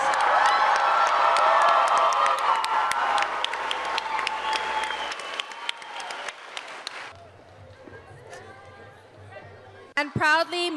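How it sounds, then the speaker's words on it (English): Loud, sustained applause and scattered cheering from a crowd at a Hawaii high school graduation ceremony for the class of 2023, fading after about seven seconds into murmuring chatter, with a voice speaking over a microphone at the end. "Another round of applause for these graduates."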